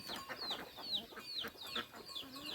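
A domestic hen at a Tamil family home clucks in short repeated bursts, with bright chirpy calls recurring about every half second, fairly close and steady over low household background noise.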